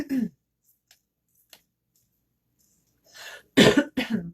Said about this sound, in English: dealing with a little cold, so I apologize for all the coughing